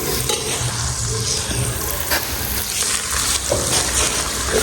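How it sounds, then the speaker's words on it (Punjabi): A ladle stirs chicken frying in a pan, with steady loud sizzling and scraping, clanking strokes against the metal throughout, no talk. "ਕੜਛੀ ਵੀ ਫੇਰਨੀ ਸ਼ੁਰੂ ਹੋ ਗਈ ਆ"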